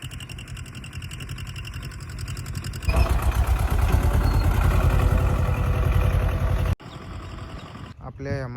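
A tractor engine idling steadily, with a mechanical chugging that grows louder and rougher midway before dropping back, a voice talking over it.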